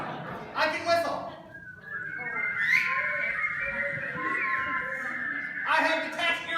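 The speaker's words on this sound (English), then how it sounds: "I can whistle." A person at a children's church event whistles a long, sustained, steady tone, framed by brief bursts of talk before and after.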